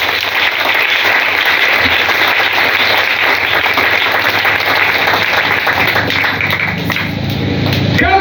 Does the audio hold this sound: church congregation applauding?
yes